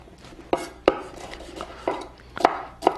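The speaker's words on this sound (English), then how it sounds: "I'm just gonna cut them down and just cut very evenly some strips right there." A kitchen knife slices a seeded red bell pepper into even strips on a cutting board, giving about six crisp, close knocks at an uneven rhythm with no voices.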